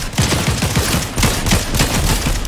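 Rapid automatic gunfire in the battle royale game Fortnite, loud and close, with dense overlapping bursts and repeated sharp shots running continuously for a couple of seconds without speech.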